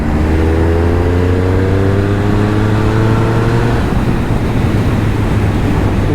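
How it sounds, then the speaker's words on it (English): A 2022 Triumph Speed Triple 1200 RS naked motorcycle gives a loud, close exhaust note, holding a steady drone that climbs in pitch under throttle before settling partway through, with no talking. "The exhaust note is so damn good."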